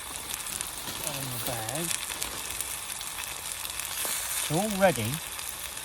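A continuous broadband sizzle of food frying in a pan runs throughout, with someone speaking briefly over it twice.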